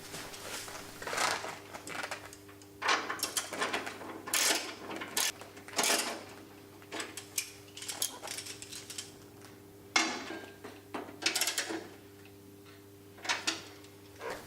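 Metallic ticking and clicking of 8mm lock nuts being tightened onto the studs inside a Honda HRC216 lawnmower deck, in irregular short bursts of ratchet-like clicks with pauses, close and fairly quiet over a faint steady hum.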